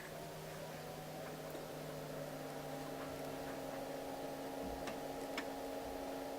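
A Sega TeraDrive Model 2 cold-booting gives a steady electrical hum and whir with faint, sparse ticks of the floppy drives seeking near the end.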